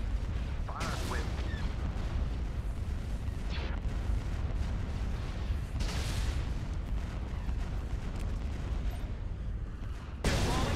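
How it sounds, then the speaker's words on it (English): Super Star Destroyer batteries fire a salvo in the space battle game Empire at War: Thrawn's Revenge, a dense continuous barrage of booming blasts and rumbling fire throughout, with several sharper bursts standing out. "Transfer all the power fleet to the full salvo. All battery commence firing."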